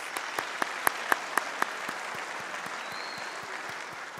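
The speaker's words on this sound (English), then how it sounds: "let's give them a round of applause for that first" An audience claps at a graduation ceremony after a musical performance, with dense steady applause punctuated by a few sharp, loud, evenly spaced claps near the start that then settle into the general wash.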